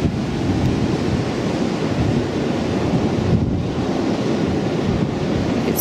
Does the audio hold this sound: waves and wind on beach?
yes